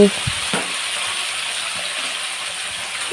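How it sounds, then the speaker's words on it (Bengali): Vegetables hit hot oil and fry with a loud, steady sizzle, close up, after a couple of brief clatters at the start. "এখন এই কেটে রাখা সবজিগুলো দিয়ে দিচ্ছি"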